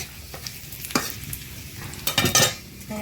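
Oil sizzles and crackles steadily as chopped chilli fries before taro leaves are added, with a few louder stirring scrapes and pops breaking through the hiss.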